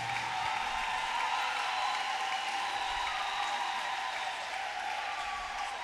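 A church congregation claps steadily after a testimony, a dense, even wash of applause from many people that holds at the same loudness throughout.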